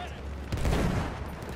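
Sustained automatic gunfire from Battlefield 1, a weapon with heavy recoil, rattles close and dense, swelling louder midway with a low rumble, while a player talks over it.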